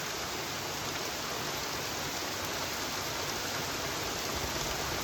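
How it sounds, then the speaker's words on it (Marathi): Steady rain falls in a continuous, even hiss of drops with no pauses, moderately loud and unbroken for several seconds. "पाऊस पडायला लागलेला होता आहे"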